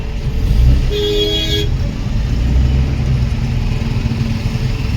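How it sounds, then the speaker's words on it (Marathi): Traffic stands jammed on a bridge on the Mumbai–Goa highway at Mangaon, a dense, loud engine rumble with a car horn tooting for about a second near the start, while engines keep droning throughout. "इथे देखील पूर्ण चक्का जाम आहे."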